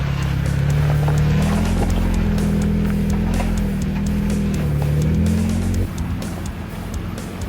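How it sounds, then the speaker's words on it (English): A red stock Jeep climbs a steep 4x4 mountain track, its engine droning loud and close under steady throttle, the pitch rising and falling with load before easing off near the end. "Arno in his red stock Jeep coming up. Listen to the power and the throttle coming up the mountain."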